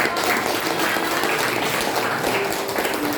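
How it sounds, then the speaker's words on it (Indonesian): Classroom applause after a short film screening, a continuous dense patter of many hands clapping together at moderate loudness with no talking over it. "Oke, tepuk tangan untuk"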